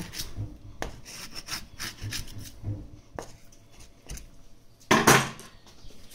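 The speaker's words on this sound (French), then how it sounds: "Vous pouvez vous aider de la pointe du fusil pour dégager votre os." Steel scraping and rubbing against bone and meat as the tip of a sharpening steel frees the bone from a beef shoulder, a series of short close scrapes with one louder sharp scrape near the end; no talking.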